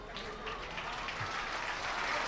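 The crowd at a Dialog Schools Rugby League match between Trinity College and St. Peter's College cheers and claps, a faint, distant wash of applause that swells slightly toward the end.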